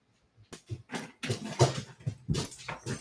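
Dog whimpering and whining for treats indoors, a string of high, nasal whines and little yips in uneven bursts, close and fairly loud, with no talk.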